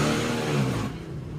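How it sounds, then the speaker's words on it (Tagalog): A Rusi 175 motorcycle engine runs in a steady, close, mid-pitched idle rumble after repair, then eases off slightly near the end. "buhay na yung motor ni boss, gumagana na"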